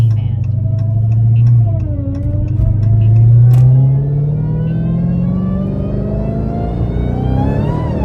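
Dodge Charger Hellcat engine revving hard as its wheels spin on dry ground, a loud, sustained roar that climbs steadily in pitch over several seconds, close by with some voice in the background.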